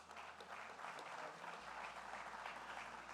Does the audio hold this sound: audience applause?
yes